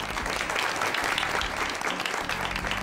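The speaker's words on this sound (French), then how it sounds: "Et je vous demande à tous de l'applaudir." An audience applauds a make-up student being introduced, steady dense clapping filling the whole stretch at an even, moderately close level with no voices over it.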